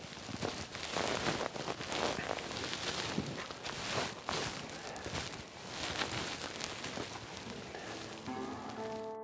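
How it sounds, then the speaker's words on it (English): Rain falls steadily outdoors in the rugged Missouri Breaks during an elk bowhunt. It makes a dense, close hiss that runs the whole time, with no talking and a faint tonal sound near the end. "it's been raining"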